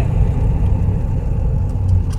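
A car cruising in fifth gear gives a steady low engine and road rumble, close and even, with no talk over it.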